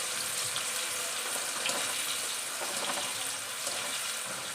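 Onions fry in oil for homemade chicken biryani, producing a steady, moderately loud crackling sizzle that carries evenly throughout with no voices.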